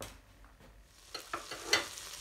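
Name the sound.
butter melting in a large saucepan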